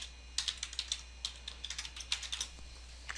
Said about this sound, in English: here you're going to type in your username